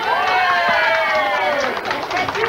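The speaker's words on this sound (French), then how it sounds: "On l'applaudit, s'il vous plaît!" Audience at a 1987 Quebec television gala applauding a comedian's entrance: a sustained, dense wash of clapping and cheering with crowd voices and musical tones mixed in.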